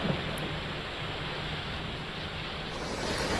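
Heavy monsoon rain pouring down in Mumbai, a steady, dense hiss of falling water that continues evenly throughout, with no talking.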